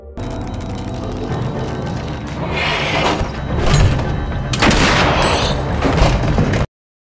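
Gunfire in a film scene where a character is shot in the head, loud sharp bangs and thuds over dense action soundtrack noise, with several heavy impacts before cutting abruptly to silence.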